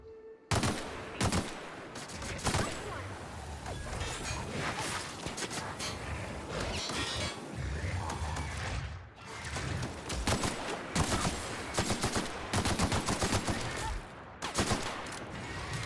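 Automatic assault rifle fire from The Outer Worlds, dense bursts of rapid shots rattling almost continuously, with short pauses between volleys, loud and close with game effects mixed in.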